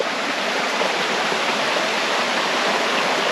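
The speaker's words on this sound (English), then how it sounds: "Our own little private creek." Water rushes and babbles steadily from close by, a continuous, even flow with no voices.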